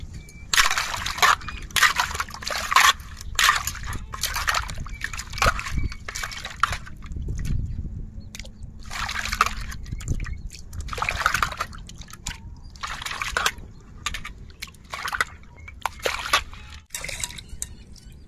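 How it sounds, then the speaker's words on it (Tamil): Stingray fish is scrubbed and washed by hand in water, with repeated sloshing, trickling and splashing in uneven bursts, close and fairly loud, with no talking. "நல்லா உரசி கழுவிடணுங்க. கழுவுனா தாங்க அந்த மாங்கு போகும் திருக்கையில்."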